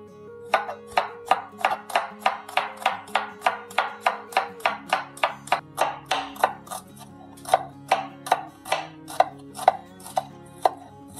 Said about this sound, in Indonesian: Kita akan iris saja.